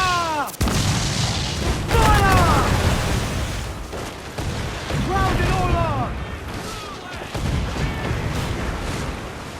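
Naval cannon fire from ships in the Assassin's Creed Black Flag video game: repeated deep booms and blasts through the clip, mixed with shouted crew voices and game noise.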